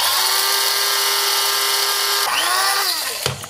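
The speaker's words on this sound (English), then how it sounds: "I'm just putting them in my spice grinder." Electric spice grinder whirring steadily as it processes green tea leaves for a Japanese chiffon cake, a loud continuous motor whine that shifts pitch and winds down near the end.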